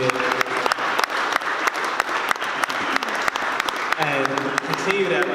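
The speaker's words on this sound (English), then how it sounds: "Give yourselves a round of applause for being here." Audience applause at an evening panel discussion on gentrification in Richmond: steady dense clapping from a seated crowd throughout, with a few louder claps and some voices rising near the end.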